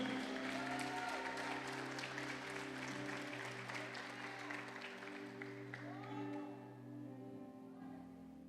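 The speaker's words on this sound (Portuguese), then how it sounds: "aplauda o Senhor nesse momento" A church congregation applauds during a Portuguese-language worship service, steady clapping over sustained organ or keyboard chords that fade toward the end.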